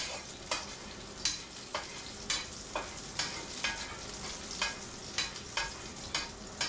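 Garlic fries in a pan alongside carrot and potato, giving a steady sizzle broken by regular stirring scrapes roughly every half second, close and moderately loud, with no voices.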